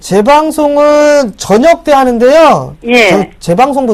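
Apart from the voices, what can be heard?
No distinct noise like a dog, phone or traffic.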